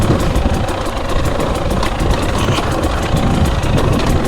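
A Husqvarna TE300i dirt bike engine running steadily at idle, a loud, rough, continuous burble with fast pulsing, heard close up and without talk.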